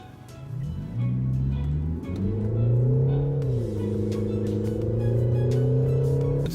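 The engine of a Peugeot 3008 GT Line with a 1.6 THP 165 petrol engine and EAT6 gearbox revs in sport mode, with the sound played through the car's speakers. A steady, loud drone rises in pitch and then holds.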